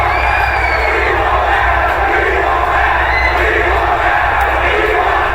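At a Ring of Honor wrestling show, a large crowd boos Jeff Hardy after his triple threat match win, a dense, sustained roar of jeering voices that stays loud and continuous throughout.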